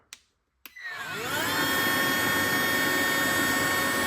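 A cordless window vacuum squeegee powered by a DeWalt battery clicks on and spins up with a rising whine, then settles into a steady, loud, high-pitched motor drone close by.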